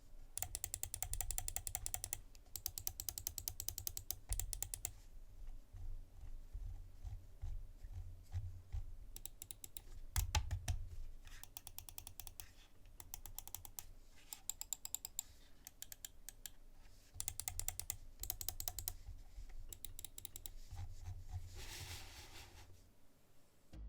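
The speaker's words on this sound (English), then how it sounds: "Now that you know what makes this mouse work, it's time to hear this mouse" Mionix Naos Pro computer mouse clicking: rapid, continuous bursts of sharp close-up clicks and rattling button presses, some fast runs and brief pauses, faint and alone.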